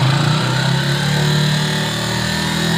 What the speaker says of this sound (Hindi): एक्सीलेटर दो भाई। थोड़ी थोड़ी रेस